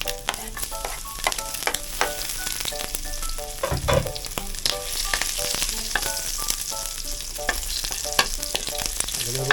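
Garlic and ginger sautéing in a pan for ginataang langka, a busy close sizzle with rapid clinks and scrapes of a utensil stirring throughout, a brief louder hiss near the middle.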